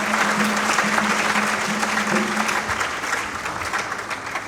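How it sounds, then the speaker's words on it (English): An audience claps steadily through a speaker-series event, a dense sustained wash of many hands that stays loud throughout and fades slightly toward the end, with a faint hum underneath. "Please, another round of applause for the ladies."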